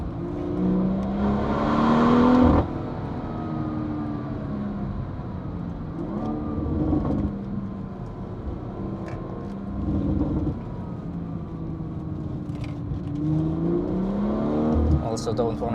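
A BMW M140i descends the Hulftegg Pass in the Swiss Alps, its engine note humming and shifting pitch through the drive with a louder rev early on, while someone talks over it.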